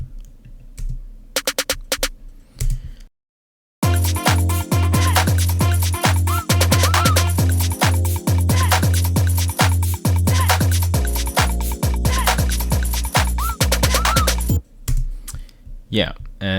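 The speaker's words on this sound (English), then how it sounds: "there's this like rapid snare fill that sounds like this" Rapid snare drum fill from a beat remake built in Ableton, loud, dense rolls of quick snare hits in bursts over a thumping beat, with a short gap of silence early on.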